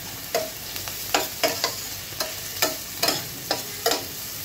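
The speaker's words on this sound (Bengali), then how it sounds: "প্রায় 2 কাপ পরিমাণ পেঁয়াজ কুচি দিয়ে নিচ্ছি। একটু ভেজে নিব এখন।" About two cups of chopped onion frying in a pan for chicken malai curry, a steady low sizzle broken by repeated sharp scraping strokes of a spatula at an irregular rhythm, close and without speech.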